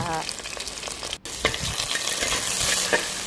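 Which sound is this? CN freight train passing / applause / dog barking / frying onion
frying onion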